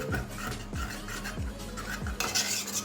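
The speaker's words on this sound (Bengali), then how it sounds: "আবারও ভালো করে ফেটিয়ে নেবো এতক্ষণে হয়তো গলে গেছে আবারও ফেটিয়ে দিচ্ছি" Sweet palm malpua batter with dissolved sugar is whisked in a bowl, giving rapid, steady rhythmic scraping and tapping strokes up close, with a louder clattering burst near the end and no talking.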